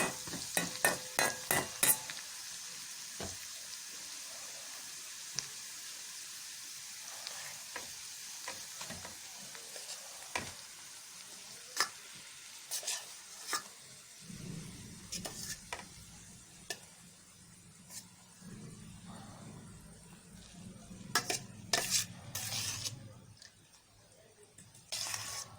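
Egg mixture for Korean-style egg fried rice is stirred in a pan, with scattered scrapes and ticks of the utensil over a soft sizzle that grows louder partway through.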